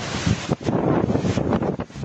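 Strong typhoon wind and rain lash Quezon City, a loud, rough roar buffeting the microphone in continuous gusts with brief dips, no voices heard.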